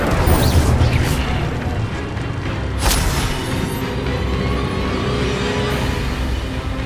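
An Incendio fire spell goes off in the video game Hogwarts Legacy, starting with a loud boom and whoosh. A second burst follows near three seconds, then a dense roaring rumble carries on.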